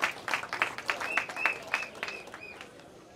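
A crowd at a public gathering breaks into scattered, uneven applause with cheers and shouts, loud at first and then fading.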